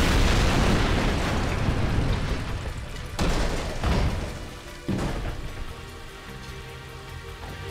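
A tank blows up in the Jak 2 video game: a loud, dense roar of explosion and debris fills the opening seconds, followed by further blasts and crackling bursts that slowly thin out.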